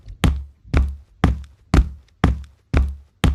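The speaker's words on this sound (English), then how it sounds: "Was that a knock on the door?" Someone raps on a door seven times, each knock a sharp, hollow thud spaced evenly about half a second apart, close and clear with no talking.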